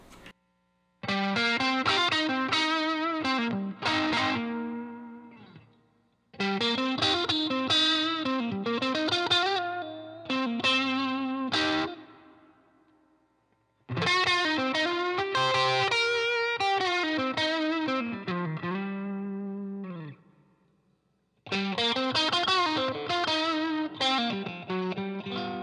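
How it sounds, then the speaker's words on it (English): Slightly overdriven Fender Stratocaster electric guitar plays melodic phrases in four separate passages through different pickups, with brief silences between them, the tone shifting a little from one passage to the next. "I'm going to play some slightly overdriven tones for you"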